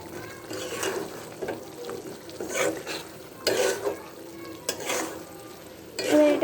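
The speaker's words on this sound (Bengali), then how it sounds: "এবার এটাকে আমরা ভালোভাবে নেড়ে চেড়ে নেব।" Chopped potatoes being stirred in a pan with dried loitka fish, giving a low sizzle with repeated scraping strokes of a spoon at close range, no talking.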